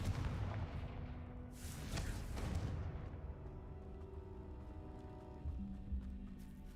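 Bombarda and Confringo spell explosions in the Hogwarts Legacy video game, heavy booming blasts in the first half that fade into a rumbling, ringing tail of debris and lower tones.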